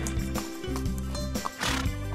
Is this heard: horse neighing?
yes